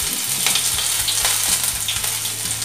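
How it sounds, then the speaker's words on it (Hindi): Crushed ginger sizzles steadily in hot oil left over from roasting peanuts, a close, continuous frying hiss with light stirring clinks throughout. "इसी तेल में मैं कुटी हुई अदरक डाल रही हूँ"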